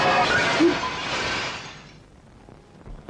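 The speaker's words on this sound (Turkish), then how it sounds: "Bir pozunla camı paramparça ettin." A loud crash of breaking glass, a burst of bright shattering that fades out over a couple of seconds, followed by a few faint clinks.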